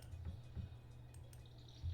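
Watering crops in the Stardew Valley farming game makes a short dripping, liquid splash effect from the watering can, soft and close, with a light low hum of game audio underneath.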